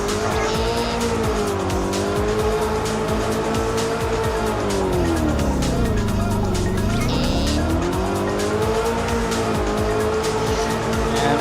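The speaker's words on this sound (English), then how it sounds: "We are going to hop in the McLaren. My favorite supercar that I own." A McLaren supercar engine drones steadily at close range for the whole stretch, its pitch sagging and then climbing back as the car is driven, with faint tyre noise underneath.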